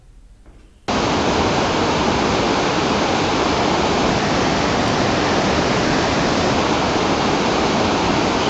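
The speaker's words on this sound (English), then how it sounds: "The ice is melted to water and flows into the river." Glacier meltwater at Gomukh Glacier, the source of the Ganga, roars as a dense, loud, unbroken torrent after a brief quieter start.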